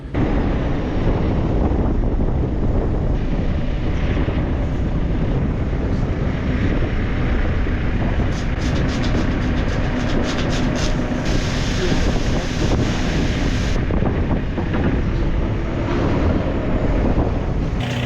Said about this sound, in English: It's a little bit breezy today